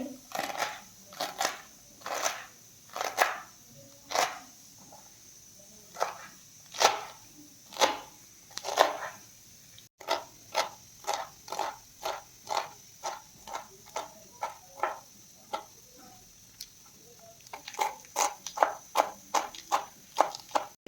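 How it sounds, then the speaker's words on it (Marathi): A knife chops spinach finely on a board in a steady run of crisp, close taps, at first spaced and then quickening into a brisk, even rhythm. "आपल्याला पालक छान बारीक चिरून घ्यायचा आहे"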